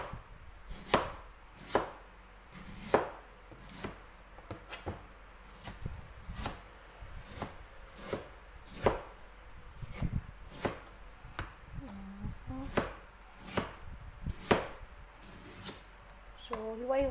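Bamboo shoots sliced with a knife on a board give a steady series of sharp, close chops, roughly one to two per second, with someone speaking quietly in between.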